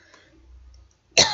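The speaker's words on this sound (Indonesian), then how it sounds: "Maaf, jadi batuk." A single sharp cough, close and loud, right after a stretch of near silence, interrupting a spoken math lesson on solving a system of linear equations.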